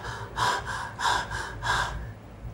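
A man imitates a child's rapid, labored breathing, producing three quick bursts of gasping, snorting breaths close to the microphone with short pauses between them.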